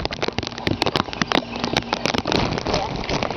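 Rain falling on a sunny day in a backyard, a dense patter of drops hitting surfaces throughout, with sharp close taps scattered over steady hiss.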